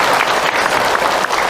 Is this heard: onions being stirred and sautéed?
no